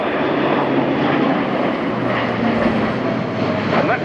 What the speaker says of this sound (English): After a typically exciting demonstration from Airbus Defence and Space of the Airbus A400M.